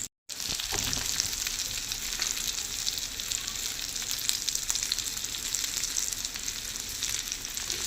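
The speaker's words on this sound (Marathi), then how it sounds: "बाकीचे मासे पण मी आता फ्राय करून घेते." Fish frying in a hot pan, a steady dense sizzle that stays loud and continuous from start to finish after a brief silent gap at the very beginning.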